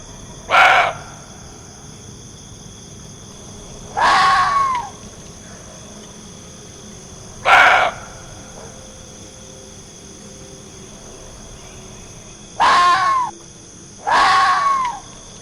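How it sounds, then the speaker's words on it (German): Roe deer and fox call at night in a forest: five loud, harsh, strained calls come in spaced bursts a few seconds apart over a quiet, faintly hissing background. "hören Sie sich an, wie ein Reh und wie ein Fuchs in der Nacht im Wald klingen können"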